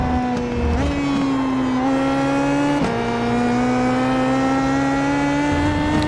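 A PM18 race car runs through Suzuka's Spoon curve, its engine holding a loud, steady high-revving drone with small pitch dips at gear or throttle changes, heard from onboard without a break.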